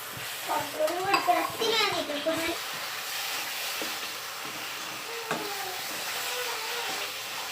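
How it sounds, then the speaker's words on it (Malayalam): Jackfruit halwa mixture stirred in a hot pan, a soft continuous sizzle with scraping stirs, while voices talk over the first few seconds and again briefly later. "നല്ല പോലെ ഇളക്കി യോജിപ്പിച്ച് റെഡിയാക്കി എടുക്കും."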